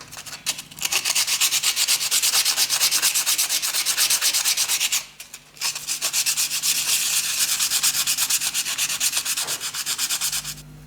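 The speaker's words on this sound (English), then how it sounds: "I'm using 100 grit woodworking sandpaper to get that off" Sandpaper of 100 grit rubs excess powder coat off a DIY steampunk clock part in fast, rhythmic back-and-forth strokes. The close, loud scratching runs continuously with one short pause partway through.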